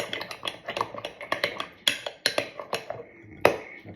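A spoon stirs peanut butter and yogurt together in a bowl, making close, rhythmic clinks and scrapes against the dish, roughly a dozen quick strokes followed by a final louder knock.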